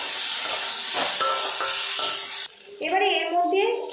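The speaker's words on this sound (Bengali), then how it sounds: "আদা রসুন পেস্ট দিয়েছি একটু নাড়াচাড়া করে নেব" Ginger-garlic paste and potatoes are stirred in a hot frying pan, a close hissing sizzle with a few spoon knocks before it suddenly drops off and a voice starts talking.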